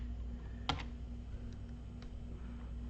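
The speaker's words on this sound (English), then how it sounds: "on the search bar we can type EC2" A computer keyboard is typed on in a quiet room: one sharp cluster of close clicks, then a few lighter, spaced taps.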